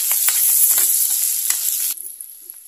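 Green chillies fry in a pan for ven pongal with a loud, close hiss that suddenly drops to a faint sizzle near the end, with a few small pops and no talking.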